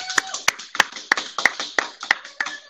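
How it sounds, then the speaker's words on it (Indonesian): Seven or eight sharp, evenly spaced hand claps ring out close and loud, a slow steady rhythm with short gaps, while a voice is heard faintly alongside them. "Minta tepuk tangan dong buat Lala."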